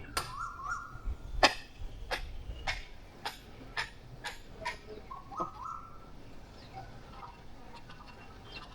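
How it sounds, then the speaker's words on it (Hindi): Birds chirping and calling around a hillside villa in Murree, scattered sharp tweets and a few short song phrases, fairly close over faint background ambience. "और अभी आप ये परिंदे की आवाज़ सुने ज़रा।"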